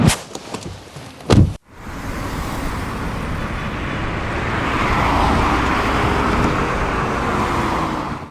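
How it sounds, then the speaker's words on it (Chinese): A car drives on a road toward a small town; a door thuds shut near the start, then a steady engine and road rumble fills the cabin, swelling slightly midway. "那我们就开车去镇上"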